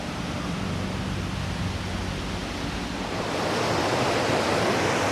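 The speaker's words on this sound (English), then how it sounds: "So the river has gone into a kind of a gorge" A river rushing through a gorge in Berchtesgaden National Park near Ramsau, Germany, heard from a small footbridge: a steady, dense roar of whitewater that fills the whole clip and swells slightly louder toward the end.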